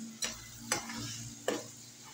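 Magaz (goat brain) masala fries in a pan with a quiet, steady sizzle, punctuated by three sharp clinks or scrapes of a spoon against the pan, close but faint.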